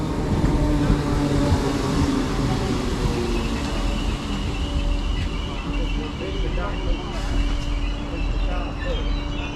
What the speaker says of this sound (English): arriving in now is going to be 508-103